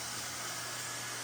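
A vacuum cleaner runs across a tiled floor after grouting work in a bathroom or kitchen, giving a steady, loud hiss and whine that holds constant throughout.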